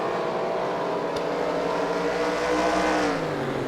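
Race cars roar around the track in a continuous loud engine drone with shifting pitch, as though several cars are passing close by, with no speech over it.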